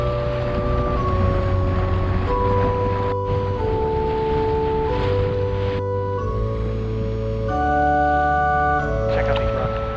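A Tartan 37 sailboat under way on open water, with steady wind and water rush running throughout, partly covered by background music.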